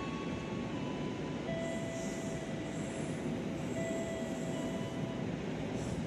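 Extra long-distance train from Gambir to Yogyakarta rolling through Cirebon station without stopping, a steady loud rumble of wheels with high squealing tones drifting through, heard from the platform.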